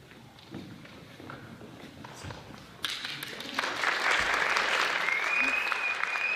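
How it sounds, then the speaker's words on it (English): An audience reaction played back from a recording: quiet murmuring at first, then a sudden burst of applause and cheering that grows louder, with a sharp whistle rising near the end. "Whistling and cheers and applause"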